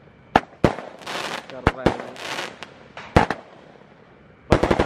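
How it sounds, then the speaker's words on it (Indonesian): A 25-shot Roman candle firework fires a series of loud, sharp pops at irregular intervals, with hissing crackle trailing after each one and a quick cluster of shots at the end, while a person speaks briefly. "Roman candle 25 shot."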